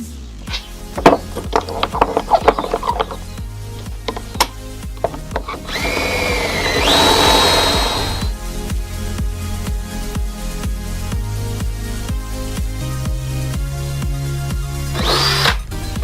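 A power drill fitted with a depth guide bit bores into wood, whirring and whining in bursts with rising and falling motor pitch, interspersed with close knocks and clatter from the workshop, and no talk.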